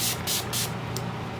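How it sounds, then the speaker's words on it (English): Setting spray misted onto a face: three quick, close bursts of hiss in a row, then a brief faint fourth puff, over a low background hum. "Let's spray my face."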